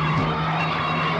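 A car tilted up on two wheels skids with a loud continuous tire squeal and engine roar, close and sustained without a break, with no talk over it.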